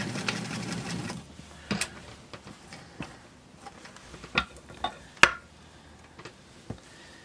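A sewing machine finishes a seam on American Girl doll clothes in a short burst of stitching at the start, followed by scattered light ticks and clicks close by.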